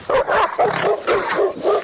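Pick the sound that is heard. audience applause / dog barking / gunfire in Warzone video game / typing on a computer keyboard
dog barking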